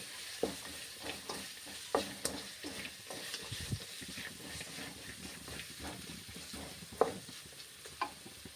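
Ginger garlic mixture stir-frying in a pan, a soft, fairly quiet hiss with scattered clinks and scrapes of a spoon stirring at an uneven pace.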